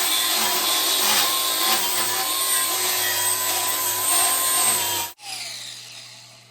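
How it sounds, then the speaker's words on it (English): Loud, steady abrasive grinding as scrap steel pieces are stripped of paint with a power tool in a hobby welding shop, running continuously for about five seconds before cutting off abruptly and winding down. "I'm just stripping the paint off these to clean it up"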